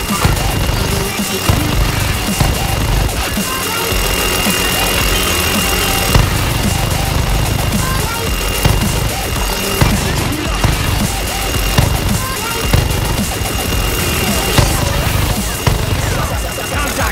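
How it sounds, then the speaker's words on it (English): Helicopter in a Battlefield-style video game, its engine and rotor roar droning steadily and loud throughout, overlapped by bursts of rapid minigun fire. "The helicopter has miniguns on the side of it!"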